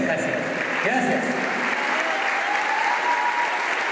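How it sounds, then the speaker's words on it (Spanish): Audience applause at the closing ceremony of an international folklore festival in Mexico, a steady dense clapping that runs the full length, loud and close, with an announcer's voice faintly under it. "Fuerte el aplauso hacia el pueblo"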